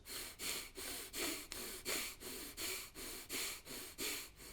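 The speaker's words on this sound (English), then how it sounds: "it's breath of fire. So it's one continuous motion of breathing, no pauses at the top or the bottom" Rapid breath-of-fire breathing during a stress-reduction meditation exercise: about ten quick, forceful nasal breaths in a steady, even rhythm, close and clear with no pauses between them.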